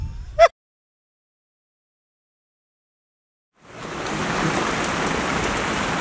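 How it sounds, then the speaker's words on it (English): Steady rain falling outdoors. A brief sharp sound comes first, then near silence, then a broad, even hiss of rainfall that continues to the end. "It looks like every time we come here, the first day it rains."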